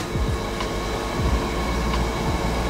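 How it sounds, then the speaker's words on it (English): A household dishwasher runs with a steady, loud mechanical rumble, punctuated by repeated low thumping and sliding knocks that recur every second or so, with no voices over it. "Sorry, that's my dishwasher. It just decides to make sounds, make noises."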